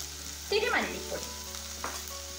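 Ivy gourd frying with turmeric, chili and coriander powders in a pan crackles with a continuous sizzle, broken by a loud stirring scrape and a couple of lighter spatula strokes.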